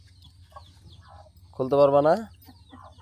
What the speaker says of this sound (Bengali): আলিফের মুরগির খোবে সব হাঁস মুরগি চিল্লাচিল্লি করতেছে